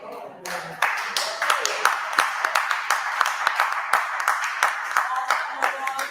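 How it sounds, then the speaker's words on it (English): An audience claps steadily throughout, a loud, dense patter of many hands with sharp individual claps standing out, and no voices on top. "Some of y'all might be clapping right now"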